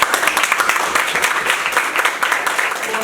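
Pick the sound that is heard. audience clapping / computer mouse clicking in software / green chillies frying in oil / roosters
audience clapping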